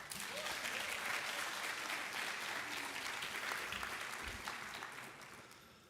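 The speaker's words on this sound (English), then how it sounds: "Can you please give them a round of applause?" Students applaud at a high school scholarship assembly in Geneva, a dense, steady wash of clapping from a large crowd that holds for several seconds and then begins to fade toward the end.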